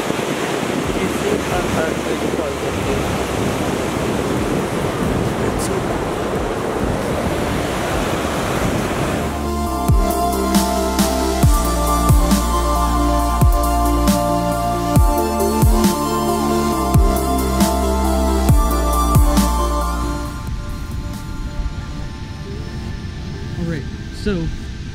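Ocean surf rolls onto a beach with a broad, continuous rushing wash and wind buffeting the microphone. A steady humming drone takes over partway through, and voices are heard.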